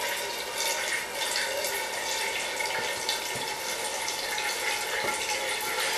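Steady flowing water of a Kelvin water droplet generator, a continuous close splashing stream with a few faint clicks, no talk over it.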